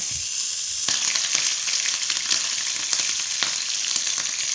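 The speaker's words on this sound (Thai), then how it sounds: "ทอดให้เขากับกรอบกันนิดหนึ่งนะคะ" Vegetables crisp up in frying oil with a bright, crackling sizzle, steady and close, broken by a few sharp pops and scrapes.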